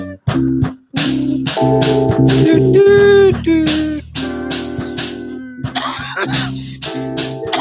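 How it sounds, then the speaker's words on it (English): Repeated harsh coughs break up the sound, several bursts in a row with brief gaps, loud and close, mixed with some throat-clearing noises. "That cough doesn't sound healthy either"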